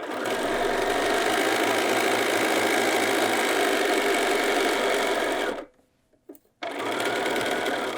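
A sewing machine runs continuously at a steady hum while stitching two fabric layers of a bag pocket together, stopping abruptly for about a second near the end before starting again.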